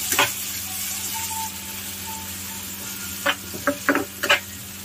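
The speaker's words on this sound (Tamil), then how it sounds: "இது டொமேட்டோலாம் நல்லா மேஷ் ஆகி நல்லா குக் ஆகட்டும்" Chopped tomatoes cook down in a pan for poha (avalakki, flattened rice), giving a steady soft sizzle with a few sharp scraping and clattering stir strokes near the end.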